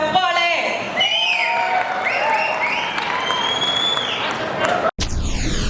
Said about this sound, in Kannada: ನಿರ್ಮಾಪಕರಿಗೆ ನಿಜವಾಗ್ಲೂ ಜೋರಾದ ಚಪ್ಪಾಳೆ ಬರಬೇಕು